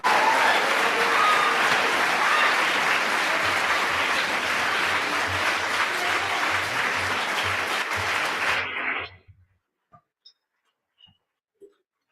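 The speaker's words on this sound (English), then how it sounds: "Those speeches were amazing, and they deserve another round of applause." An audience applauds steadily and loudly for several seconds after senior speeches, then the clapping cuts off abruptly, leaving a few scattered faint claps.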